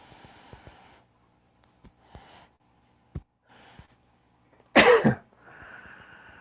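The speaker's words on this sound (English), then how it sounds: "puts a little shock into the lungs and causes a bunch of these air sacs to open up, hence the cough" A few soft breaths and small throat sounds, then one sharp, loud cough near the end, followed by quiet breathing.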